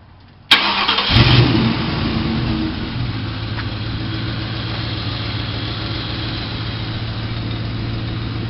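A 2003 Ford Mustang GT V8 cranks and fires up nearby, then settles into a steady, loud idle with a constant low drone, checked for a possible exhaust leak.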